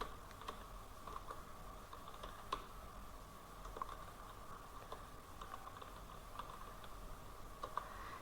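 Keyboard keys being typed while entering text into spreadsheet cells, a steady stream of light quiet clicks with a few sharper taps, close and alone over a faint background hiss.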